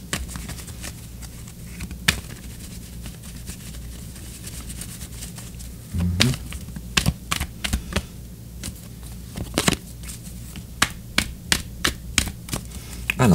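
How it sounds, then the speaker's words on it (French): Tarot cards are shuffled by hand in a quiet room, giving soft riffling and sharp taps and snaps that grow more frequent in the second half, with no talking. "Et je continue de brasser les cartes un petit peu."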